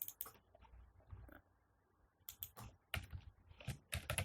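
Typing on a computer keyboard while entering Java code for a JSP and Servlet notes project, with short bursts of close key clicks separated by a pause and no talk.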